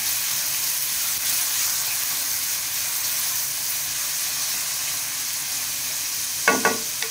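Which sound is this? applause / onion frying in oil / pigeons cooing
onion frying in oil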